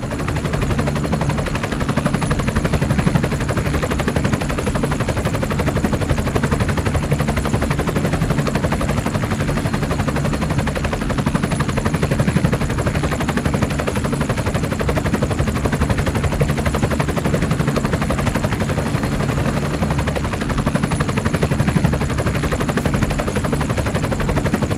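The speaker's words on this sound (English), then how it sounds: "Our helicopter decided to go on a joyride around the war zone." Helicopter rotors churning through a video game war zone, with dense, constant rumble and clatter that suggests gunfire mixed in, holding steady and loud for the full length without speech.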